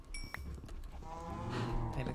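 Cows in a pen in a video game give low, drawn-out moos that swell toward the end, over faint background clicks and a quiet voice.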